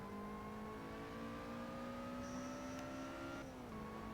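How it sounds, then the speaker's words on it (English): A racing car engine in the Forza video game hums at a steady, sustained pitch, then briefly drops and settles, with a faint whine above it. It plays quietly in the background with no talk. "Nothing like the sweet, sweet, loud, roaring purr of an engine to start your Sunday morning off right."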